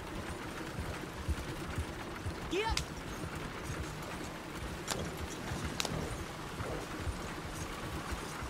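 Horse hooves clip-clop at a steady trot on a road in Red Dead Redemption 2 as a rider works the reins, a continuous patter under faint background noise and murmured voices.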